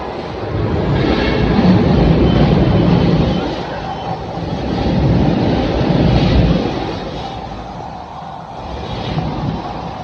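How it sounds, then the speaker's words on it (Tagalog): A Manila LRT Line 1 light rail train rumbles in with a low, rolling roar that swells and fades in waves, steady rail noise filling the clip with no voices. "Padating na po yung tren."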